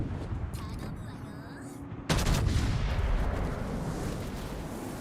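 Naval guns fire in World of Warships, one heavy boom cutting in abruptly and rolling into a long, loud rumble after a quieter stretch of ambient noise and faint voice.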